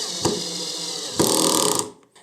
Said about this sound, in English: Now, the screw is fully in, just the head is still sticking out before the clutch stopped the operation.